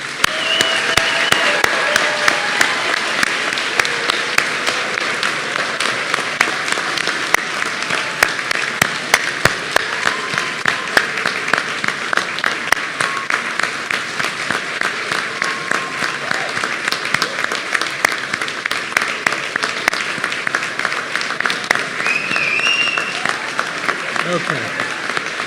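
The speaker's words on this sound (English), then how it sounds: "give this class one more round of applause" An audience applauds a graduating class at a white coat ceremony, with dense, sustained clapping filling the room at full volume for the whole stretch.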